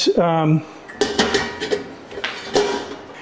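The aluminized-steel cooking grate of a Costco stovetop smoker is lifted and set down, giving a ringing metallic clang followed by several lighter clinks and scrapes close by.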